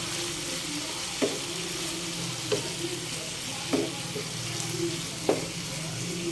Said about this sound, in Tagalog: Igigisa mo lang.